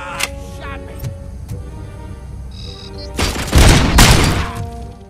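RoboCop Rogue City gunplay: scattered shots and clanks crack through a busy game soundscape, then a loud, heavy burst of rapid gunfire roars out near the end, close and dominant.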